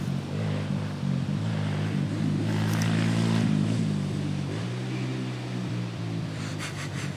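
A motorcycle engine drones steadily nearby, its low harmonic hum shifting pitch as it passes, loud and continuous with no speech over it.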